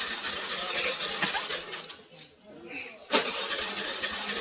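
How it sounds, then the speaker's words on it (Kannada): A vehicle engine that fails to start gives a loud, close, rough churning of cranking noise that briefly drops away and then resumes with a sharp burst. "ನನ್ನ ಗಾಡಿ ಯಾಕೆ ಸ್ಟಾರ್ಟ್ ಆಗ್ತಾ ಇಲ್ಲ"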